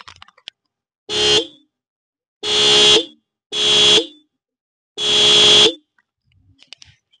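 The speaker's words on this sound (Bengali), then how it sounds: "এখানে হর্নটা তোমাদের একবার হর্নের সাউন্ডটা একবার শুনিয়ে দিচ্ছি" The dual horn on a 2025 TVS Apache RTR 180 2V motorcycle gives four loud, close blasts, the first short and the last longest, with quiet clicks and gaps between them.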